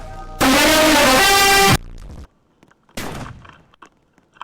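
A shotgun firing effect in the Roblox game Slap Battles: one loud, harsh blast lasting over a second, followed by a shorter, quieter burst of noise after a brief gap.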